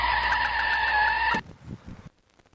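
A loud, steady crowing-like chicken call lasting over a second, then a few fainter scattered clucks and rustles before it falls quiet.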